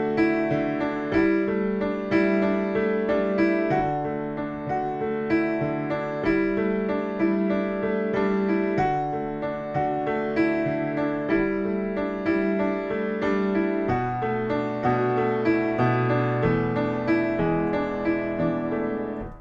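Piano playing the intro of a song, steady rhythmic chords with a repeating pattern and a moving bass line, full and continuous, played alone without talk.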